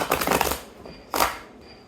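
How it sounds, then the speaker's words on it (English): Two quick bursts of a small tarot-style deck riffling close by, the first longer and the second brief, with a short pause between them. "This is a bit of a smaller deck, so it's a little harder for me to shuffle,"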